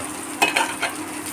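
Onions fry in a pan at home while they are stirred: a continuous soft sizzle sits under a few quick scraping stirs close by, with no talking.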